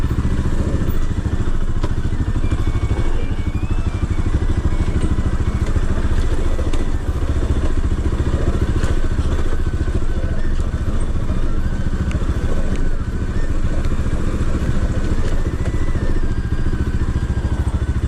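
A motorcycle rides over a rough, broken off-road track, its engine droning loud and continuous up close while the frame clatters and thumps over bumps throughout.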